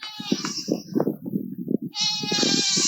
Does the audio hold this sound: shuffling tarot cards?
no